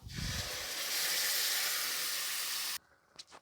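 Loud, steady sizzling hiss of ground coconut paste hitting hot oil, lasting a few seconds before cutting off abruptly into quiet.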